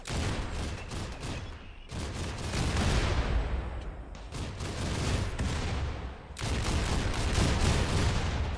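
Heavy gunfire in a RimWorld Warhammer 40k moon siege battle, continuous volleys of loud shots and booms swelling and breaking in several long bursts with no talking.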